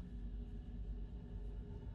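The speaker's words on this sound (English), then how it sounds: "Oh, thunder." Low, steady thunder rumble rolling through a stormy scene in the video game Assassin's Creed II, a continuous deep murmur at even loudness for the whole stretch with no voices.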